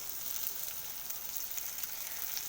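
Chopped onion with green and red chillies fry in oil with five-spice seasoning, giving a steady, close hiss of sizzling with fine crackles throughout.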